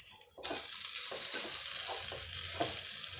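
Grated coconut roasting in ghee for coconut barfi, a constant soft sizzle under repeated scraping strokes of a spoon stirring the pan, close by and fairly quiet.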